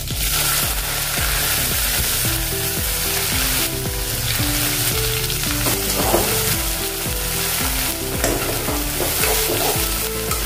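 Cumin seeds, bay leaf and onion fry in hot oil, giving a loud, dense continuous sizzle with stirring, layered beneath background music throughout.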